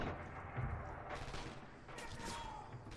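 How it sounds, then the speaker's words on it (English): Enemy gunfire in the World War II shooter Red Orchestra 2, heard as a steady rattle of shots mixed into busy battle noise, with a voice talking over part of it. "And they're shooting at me."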